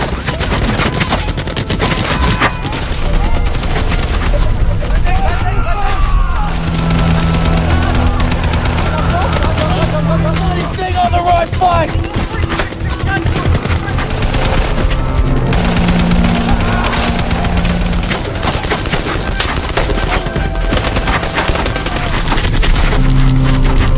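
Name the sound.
machine gun fire in battle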